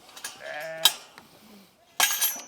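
Goats being let in on a farm, with a close, loud wavering bleat followed by shorter calls and a few clanks and bumps in between.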